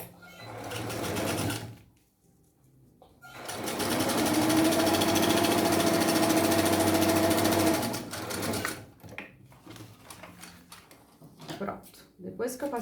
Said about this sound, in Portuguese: eu vou passar uma costura reta